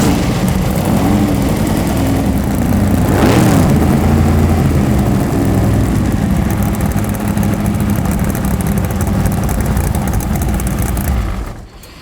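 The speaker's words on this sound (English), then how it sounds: "Oh, yeah, I'll crank her up for you, buddy." A loud rat rod engine at an outdoor car show runs with a steady heavy drone, and its pitch rises and falls once as it is revved. The roar holds close and continuous before cutting off abruptly at the end.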